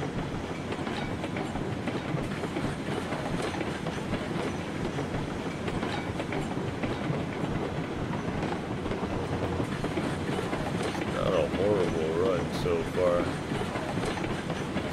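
A train in the railway game RailRoads Online rolls along its track with a steady rumble and rhythmic clickety-clack. It continues for the whole stretch, with a brief metallic squeal near the end and a voice talking over it.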